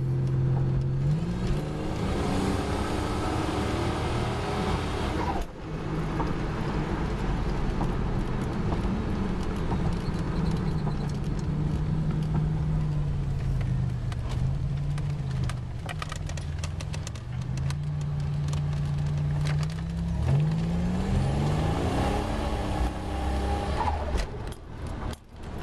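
A 1987 Buick T Type accelerating under turbo boost, its engine rising in pitch through the gears with smooth pulls and shifts, loud and close from inside the car for the full run.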